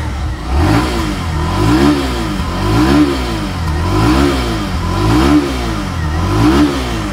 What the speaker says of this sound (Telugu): ఇప్పుడైతే ఈ బండి యొక్క ఎగ్జాస్ట్ నోట్ అయితే ఒకసారి విందాం.